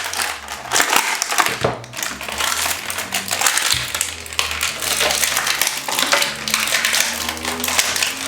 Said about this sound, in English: This packaging is kind of tough, but it's fun to rip.